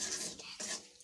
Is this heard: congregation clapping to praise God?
no